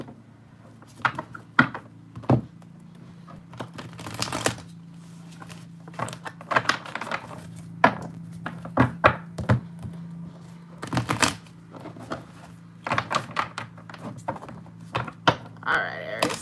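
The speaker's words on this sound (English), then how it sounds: "It's just the shuffling so loud." Tarot cards being shuffled at a desk make sharp, irregular riffles and taps, close and fairly loud, with quieter pauses between bursts.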